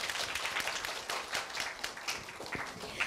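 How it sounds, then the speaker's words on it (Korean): Audience applause for a middle school student after a speech at a Korea University speaking festival, a quiet, scattered patter of clapping from a moderate crowd, heard from a distance without voices. "멋지게 발표해준 현희 학생에게 큰 박수 다시 한번 부탁드립니다."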